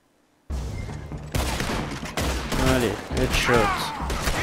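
Gunfire cracks out in Red Dead Redemption 2, a few sharp shots in quick succession at close range while someone speaks over them.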